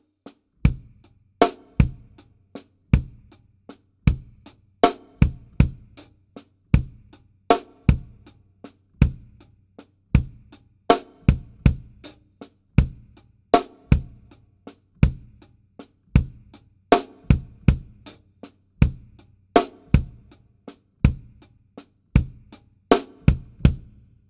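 A drum kit plays a linear groove built on four-note sixteenth groupings, the left hand putting the backbeat on the second sixteenth note, as a steady loop of sharp, close hits over low kick thumps, with no voices throughout.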